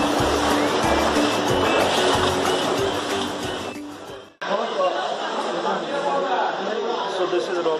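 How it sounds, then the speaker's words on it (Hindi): Stream water rushing through Guchhupani in Dehradun, a dense, steady flow with people chattering over it; the sound drops out briefly partway, then the water noise carries on. "मतलब ये पानी यहाँ से बहती हुई आ रही है"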